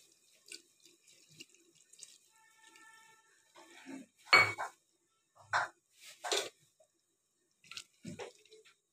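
Cornflour mixed with water is poured into a pot of chicken stew in a few short, wet splashing bursts separated by quiet gaps, with a faint clink or two of kitchenware.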